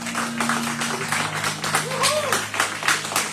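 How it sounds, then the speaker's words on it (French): A church congregation applauds during a worship service, fairly quiet and dense clapping with a pulsing rhythm and a faint voice and sustained tones underneath. "Plus fort, applaudissez le Seigneur."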